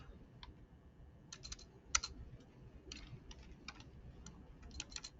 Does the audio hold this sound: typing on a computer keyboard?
yes